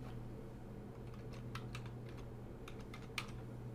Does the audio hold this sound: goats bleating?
no